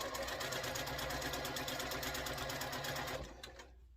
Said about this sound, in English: we'll just go ahead and stitch this right on right quick